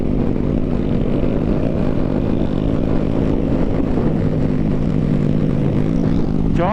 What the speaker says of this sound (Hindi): इधर में भाई इंजन ब्रेकिंग काम आता है।